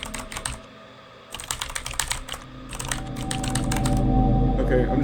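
A computer keyboard being typed on in quick bursts of close, crisp keystrokes, with a short pause, then more clacking over a rising low background drone.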